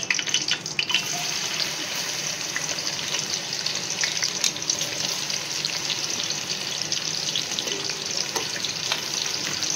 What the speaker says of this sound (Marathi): चला आता कांदा चांगला फ्राय झालेला आहे